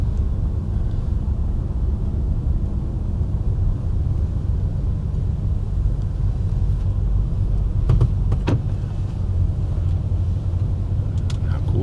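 A Disney Minnie Van pulls in at a Magic Kingdom bus stop with a steady low engine rumble and road noise. A couple of brief clicks and knocks come near the end.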